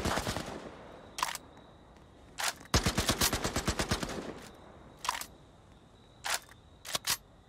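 AK rifle gunfire in a shooter video game crackles in quick bursts: a rapid rattling string of shots in the middle, with scattered single and double shots before and after, close and loud.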